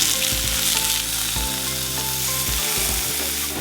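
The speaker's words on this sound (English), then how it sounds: "heat the pan to medium heat, then add sesame oil. Add carrots, gobo, and cook them for 2 to 3 minutes" Carrots and gobo burdock root sizzle loudly in hot sesame oil in a pan over medium heat, a steady close frying hiss with occasional stirring scrapes and no talking.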